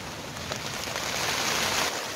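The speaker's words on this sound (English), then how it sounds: "It is downpouring right now" Steady heavy rain pours down at a campsite in a dense, continuous hiss, with no voices over it.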